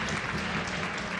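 A crowd at the World Archery Championships in Mexico City applauds with steady, dense clapping that holds at an even level through the whole short moment.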